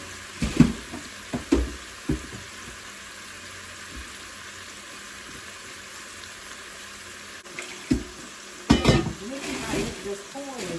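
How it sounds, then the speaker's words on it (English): A pot is washed out in a kitchen sink under running water, with a low steady wash of water and scattered clanks and knocks of metal against the basin. "I'm gonna wash this pot out and clean it up."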